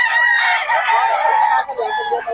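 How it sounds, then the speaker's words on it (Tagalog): Banded roosters crow loudly and close by, several calls overlapping in a steady chorus with some clucking mixed in, and no talk. "May Boss Albert, puro solid ang mga manok ni Boss Albert, mga banded."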